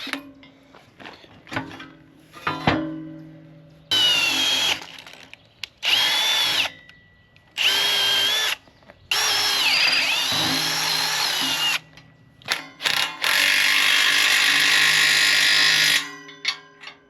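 Power drill tightening through bolts on a homemade 3-point rake: several loud, close, whining bursts of driving, each a few seconds long, separated by short pauses with clinks of handling.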